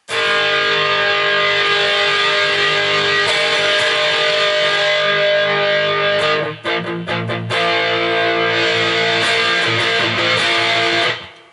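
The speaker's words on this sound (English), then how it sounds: "You can go into your chorus and add a whole lot of distortion nice and smoothly." Loud, sustained electric guitar distorted through a Zoom GFX5 multi-effects pedal, with thick buzzing harmonics, a brief choppy break of muted strums midway, then the heavy tone returns.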